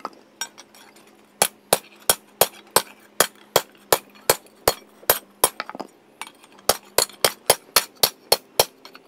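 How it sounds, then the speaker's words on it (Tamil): Iron strips are hammered into a U shape on a metal form for a floating bike build: sharp, ringing metallic blows in steady bursts, each strike loud and close with a clear clink. "இப்போ அந்த இரும்பு பட்டையெல்லாம் சுற்றியில் வச்சு தட்டி தட்டி அப்படியே ஒரு யூ ஷேப்பில் வளைச்சி எல்லாத்தையும் எடுத்துப்போம்"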